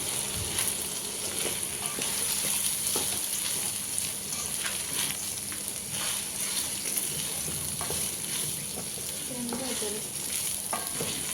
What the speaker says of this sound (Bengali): তো চালটা একটু ভেজে নিব তেলে